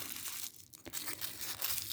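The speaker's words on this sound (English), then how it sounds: "Just taking the tissue and crumpling it down in" Tissue paper crumpled and pressed down into a dollhouse miniature Easter basket: a close, continuous crinkling and rustling that runs through the whole stretch, with a brief quieter pause midway.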